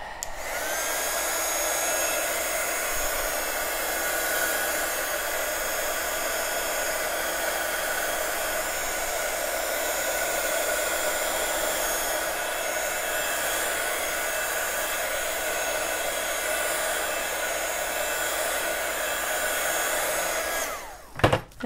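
A hair dryer blows steadily on a stamped card for over twenty seconds, a loud close whooshing roar that cuts off abruptly with a click at the end.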